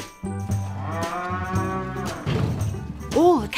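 A cow moos loudly in a barn, with a long, low drawn-out call, a pause, then another moo; a brief voice is heard at the end.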